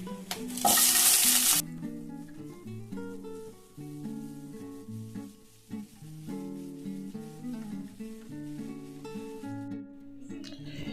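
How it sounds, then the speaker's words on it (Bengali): Pieces of pumpkin, potato and tomato hitting hot oil with tempered spices, a burst of loud sizzle at first that settles into a steady fry with stirring, while background music plays throughout. "এগুলোকে এবারে আমি একটু ভালো করে ভেজে নেব আর আমি ঢাকা দিয়ে দেব"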